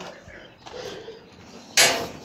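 A single short door thud near the end, preceded by soft shuffling and faint indoor movement.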